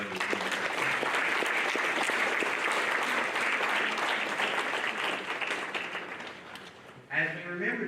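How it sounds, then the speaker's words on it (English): Sustained audience applause at a Veterans Day program, a dense steady clapping that fades near the end before a voice speaks. "I think we need to give Mr. Folsom another round of applause."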